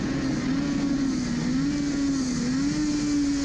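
Suzuki RG500 racing motorcycle engine braking into a corner on a circuit: a loud, continuous buzzing engine drone with a wavering pitch, heard close and steady, with no voices.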